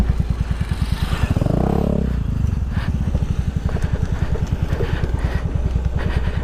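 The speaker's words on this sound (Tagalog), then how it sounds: "Kahit na maliit ang ating motor, kayang-kaya pa rin naman." A small motorcycle engine runs close by on a Sagada to Baguio ride, thumping in a rapid, even rhythm throughout, with a brief surge in revs early on.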